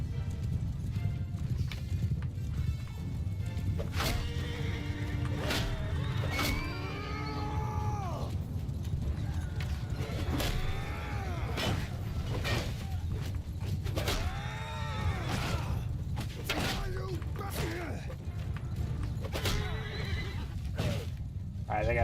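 A horse in Mount & Blade II: Bannerlord repeatedly neighs and whinnies in shrill, rising-falling calls over a dense low rumble of hooves and battle din, with a voice talking at times.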